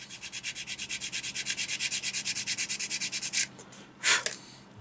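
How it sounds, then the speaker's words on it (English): A rough sander worked back and forth over the edge of a small ICM Model T ambulance model part: a rapid, even rasping of about twenty strokes, close and loud, then a few slower, separate scrapes. "So I'm going to start with our rougher sander. Sand off that edge."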